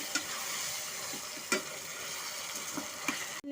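Chicken frying in a pan with ginger garlic paste, a quiet continuous sizzle broken by a few soft stirring scrapes and knocks.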